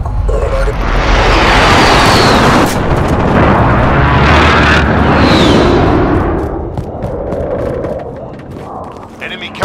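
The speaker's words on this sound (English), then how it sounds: "Friendly precision airstrike" Massive explosions from a precision airstrike in Call of Duty: Modern Warfare, loud overlapping blasts and rumbling booms with a jet roar across several seconds, tapering off toward the end, with voices talking underneath.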